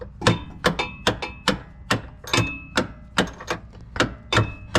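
Hammer striking a bolt on a rear upper control arm during installation on a supercharged car, a series of about a dozen sharp metallic blows in an uneven rhythm, close and loud, alone.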